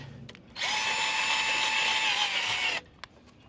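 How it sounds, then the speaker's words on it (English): A power drill roughens the surface of an aluminum boat, whirring in one continuous high-pitched burst lasting about two seconds, close and loud, with quiet handling noises before and after. "So I will drill, just so that I key up that surface"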